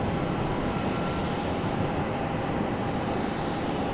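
An airliner departing Raleigh-Durham International Airport gives a loud, steady, broadband jet roar that holds at an even level throughout.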